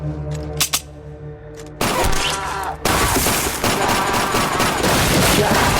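Gunfire in a gangster casino robbery film scene: a few sharp isolated shots, then a sudden dense burst of rapid automatic fire that carries on loudly to the end, with glass shattering in the mix.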